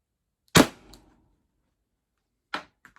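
A Pepperball TCP launcher fitted with a Lapco 6-inch barrel fires one sharp, loud shot, followed about two seconds later by a fainter, shorter pop. No one talks.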